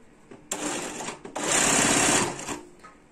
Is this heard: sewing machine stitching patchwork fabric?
yes